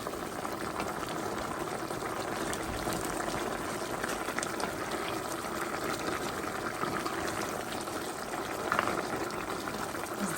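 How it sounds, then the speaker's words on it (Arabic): Water poured into a hot frying pan of fried vegetables hisses and bubbles in a steady, loud, continuous sizzle that fills the whole stretch, close by, with no voices over it. "زدت عليها دابا الماء طايب"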